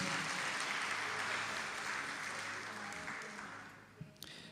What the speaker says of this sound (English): A round of applause for Uncle,